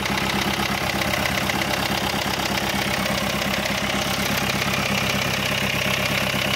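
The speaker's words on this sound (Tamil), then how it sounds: "வண்டி நம்ம ஸ்டார்ட் பண்ணி பார்த்துடலாங்க" A Renault Scala car engine idles steadily after repair work, a loud, continuous mid-pitched rumble with a faint rhythmic knock and no voices.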